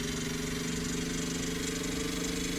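An 18-cylinder radial piston engine fitted in a car runs with a steady, droning hum. The low tones are even and continuous, and no voices are heard.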